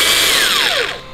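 An electric nibbler, used to cut aluminium sheet for an electric power steering bracket on an Audi RS4 saloon, gives a loud, close, high motor whine that slides steadily down in pitch as it winds down.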